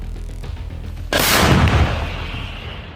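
An American M109 self-propelled howitzer fires a single heavy artillery round at enemy positions in Ukraine, a sudden loud boom that cuts through low background rumble and then rolls away into a long fading echo.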